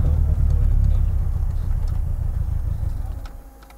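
Restored widebody Toyota Starlet with a TRD race engine, heard from inside while driving as a low engine rumble that swells and then fades, near and steady with no talk over it.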